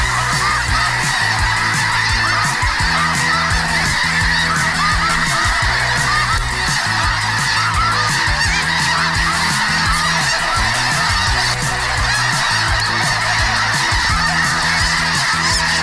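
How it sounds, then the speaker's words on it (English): A large flock of snow geese honks without pause during a waterfowl hunt, a dense, loud, overlapping chorus of calls that fills the air, with no talk. "It was like 3 hours of non-stop snow goose just piling in on our faces."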